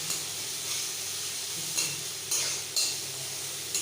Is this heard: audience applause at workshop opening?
no